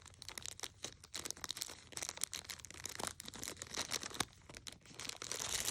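Plastic packaging of a Wii Nunchuck rustles and crinkles as a zip tie holding its cable is worked loose, a close, busy run of small crackles and scratchy handling noises with no talking.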